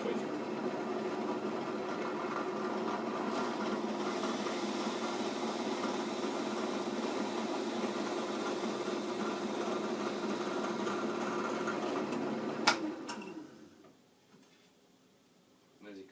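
A Chinese 6090GZ CNC router cuts a hole into a spoiler board with a continuous whining spindle and grinding hum, steady and close, then winds down and fades to near quiet near the end.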